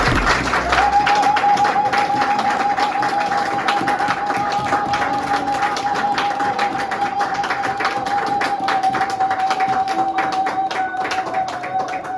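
Church congregation applauding, a continuous dense patter of many hands clapping with a steady sustained tone running underneath, fairly loud throughout.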